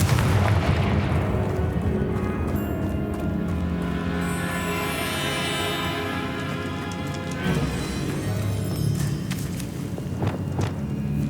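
A Confringo blasting curse explodes in Hogwarts Legacy inside a tomb, a loud, sustained rumbling boom that rolls on for several seconds with crackling debris on top.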